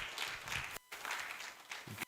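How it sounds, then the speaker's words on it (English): A conference audience claps as a speaker returns to her seat, a quiet, distant patter of hands briefly cut off before the applause resumes. "Let's clap for her as she takes a seat."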